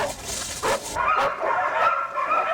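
Hunting dogs give a few short yips and barks while pursuing a wild boar through winter terrain. The barks are faint and distant, set against a rustling background.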